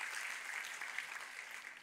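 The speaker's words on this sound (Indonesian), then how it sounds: "Kita kasih tepuk tangan yang paling meriah buat Tuhan kita." A church congregation applauds during a sermon, a dense, even patter of many hands clapping that holds steady and fairly loud for the whole short stretch.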